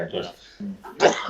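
A single abrupt, breathy sneeze bursts out near the end, loud and close, following a moment of muffled voice sounds.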